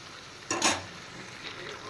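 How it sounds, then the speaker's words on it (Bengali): Chicken pieces fry with salt and turmeric in a pan, a soft steady sizzle broken by one brief, louder stirring scrape near the start. "এবার পরিমাণ মতো নুন আর হলুদ দিয়ে মাংসটা ভালো করে কষিয়ে নেব"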